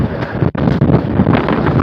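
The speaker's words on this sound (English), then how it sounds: "These wind gusts that come out of these valleys," Strong wind gusts coming off the valleys while sailing off West Maui buffet the microphone with a loud, continuous roar that briefly drops out and then surges back.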